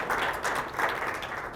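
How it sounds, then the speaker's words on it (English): A short burst of audience applause, many hands clapping together at a moderate level, with no talking. "Give her please a warm round of applause"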